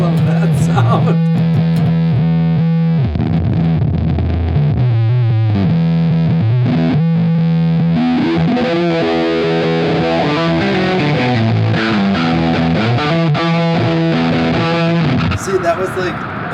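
Electric guitar through an effects pedal, a sustained distorted and modulated tone with shifting, swept texture, loud and continuous for the whole stretch.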